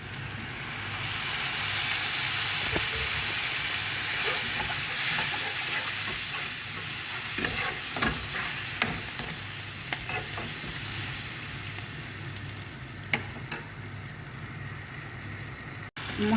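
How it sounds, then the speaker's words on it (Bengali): Spices being stirred and fried in a pan while cooking a khichuri of rice with egg, potato and carrot, with turmeric added: a steady sizzle runs throughout, and spoon scrapes and clinks break through at intervals, close and fairly loud. "মশলাটা কষানো হয়ে গেছে।"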